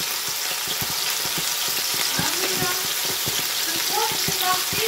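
Coconut curry balls fry in a pan with a steady close sizzle, punctuated by frequent crackles and pops and some stirring noises, without speech.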